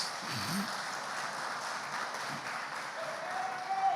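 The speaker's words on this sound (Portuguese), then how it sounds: "Dê um aplauso bem forte ao Messias." A church congregation applauds in a steady, moderately distant patter that lasts the whole stretch, with a faint voice briefly audible beneath it.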